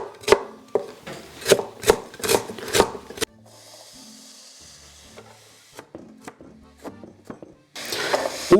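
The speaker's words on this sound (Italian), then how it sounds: "Una cipolla o un porro, tritati abbastanza grossi." A knife chops an onion or leek coarsely on a board, first in a quick run of sharp, close taps, then a quieter rustling pause with scattered light knocks, and another burst of chopping at the end.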